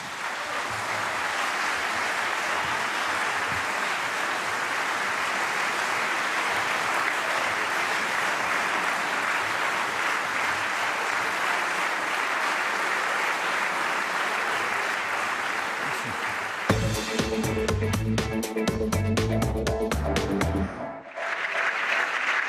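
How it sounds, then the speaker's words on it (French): Sustained applause fills the French Senate chamber, a dense and steady roar of many hands that holds loud and unbroken for most of its length before giving way to other sounds near the end. "sous les applaudissements nourris de l'hémicycle"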